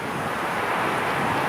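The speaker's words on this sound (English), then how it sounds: "it's a bit windy right now" Dense, steady wind buffeting the microphone, a loud continuous rushing roar with no other sounds.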